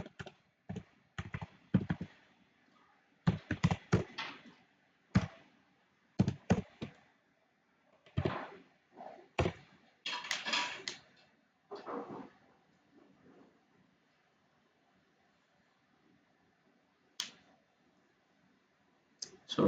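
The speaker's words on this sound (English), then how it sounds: "So I'll just type my website here." A website address is typed on a computer keyboard in irregular close bursts of clicking keystrokes, with pauses between runs, and the typing thins out to a few isolated taps before a final click near the end.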